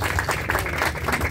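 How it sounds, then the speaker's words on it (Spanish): Applause from a crowd at an empanada contest announcement in Famaillá, a steady patter of clapping at moderate distance, fairly faint and continuous for the short stretch without speech. "un fuerte aplauso a ustedes"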